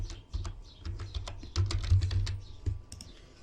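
Quick typing on a computer keyboard, a close, irregular run of light key clicks and taps lasting a few seconds with no other sound.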